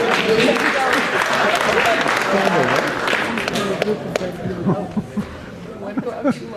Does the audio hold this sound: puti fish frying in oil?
no